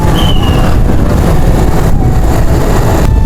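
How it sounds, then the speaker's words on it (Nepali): A large truck approaches along a jungle road, its engine a loud, steady, close rumble that fills the whole stretch with no talking over it. "यहाँ हेर यत्रो ठुलो टडक आउँदैछ"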